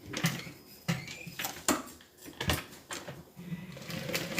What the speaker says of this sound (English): I like to just hand crank around the curves just so I know everything is nice and even